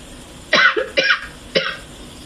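A woman coughs three times in quick succession, each a sharp, close burst with a short gap between them, following a throat irritation, with no talking over it.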